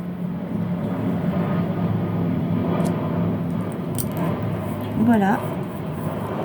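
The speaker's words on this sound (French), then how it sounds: "Il y a encore un avion qui passe" An airplane passes overhead during a quiet indoor session, heard as a steady low rumble underneath everything, with someone speaking French over it near the end.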